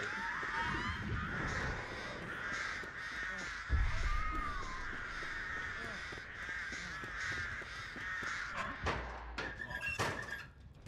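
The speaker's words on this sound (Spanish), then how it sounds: "Pinches cuervos mamones." Crows cawing in the horror video game Dead by Daylight, harsh repeated caws over a dense, noisy game soundscape with thuds and rustling, moderately loud and continuous.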